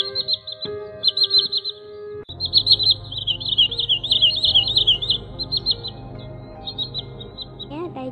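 Green sandpiper calling in repeated bursts of high, clear whistled notes that are close and loud, with brief pauses between phrases and a steady low background hum.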